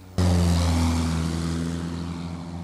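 A small propeller sport plane, a Sky Ranger, drones loudly nearby, its engine hum starting abruptly and holding a steady buzzing tone that fades only slightly.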